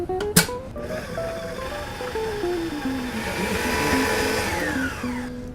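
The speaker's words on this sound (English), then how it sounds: "I'm going to start off our dessert with the Waring tabletop mixer" A Waring tabletop mixer creams butter with confectionery sugar, its motor whining loudly and steadily while the pitch steps downward and then settles, after a sharp clunk near the start.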